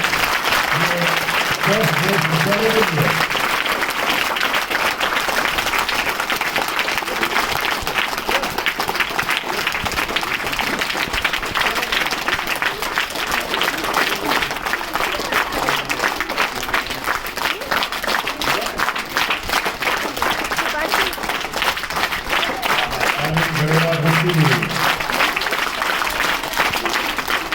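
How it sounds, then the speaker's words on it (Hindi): Loud, steady applause from a school audience at an Independence or Republic Day style event, continuing throughout with a voice speaking over the clapping. "जोरदार तालियों से अभिनंदन करना"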